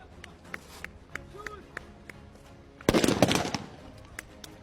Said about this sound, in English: The first shot is fired